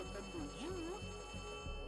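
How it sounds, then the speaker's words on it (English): A phone ringing in the video game Poppy Playtime Chapter 3, a faint warbling ring under a low background drone, brief and quiet within game ambience. "Wait, is that a phone ringing?"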